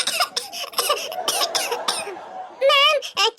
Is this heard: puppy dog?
no